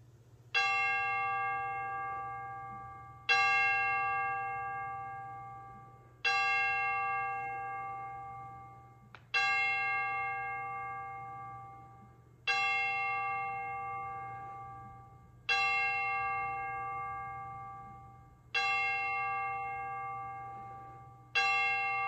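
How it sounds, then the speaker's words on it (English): Church bells at Christ UCC in Schoenersville ring before worship, sounding seven evenly spaced, resonant strikes roughly every three seconds, each one ringing out and slowly decaying over a low steady hum. "let the chimes ring us into worship."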